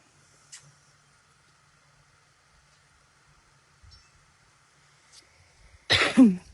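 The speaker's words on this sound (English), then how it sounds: "Just a big cough." A single loud, close cough bursts out near the end after several seconds of near silence with faint clicks.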